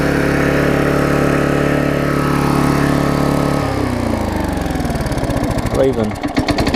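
A Vulcan 18-inch lawn mower's small engine runs steadily and loud up close, its tone shifting partway through as the speed changes, with a person speaking briefly over it.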